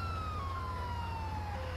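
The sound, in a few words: video game police siren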